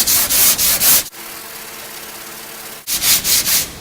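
Hand sanding of a car body panel with 80 grit paper on a 3M system, rhythmic close scraping strokes at the start and end, separated by a quieter gap.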